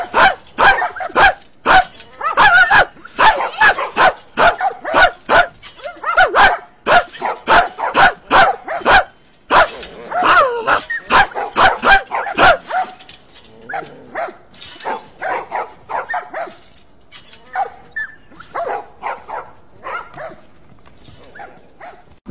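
IShowSpeed imitates a dog with his voice, letting out a long run of loud, close, rapid barks and yips, first in a dense burst and then in sparser, looser bursts.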